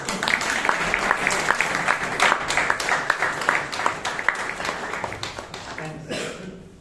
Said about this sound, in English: This applause, I think, is just a trial rehearsal.